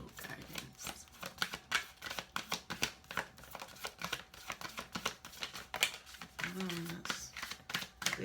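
A large deck of tarot cards is shuffled by hand in rapid, crackling riffles and flicks that repeat throughout, close and quiet, with a person briefly speaking near the end.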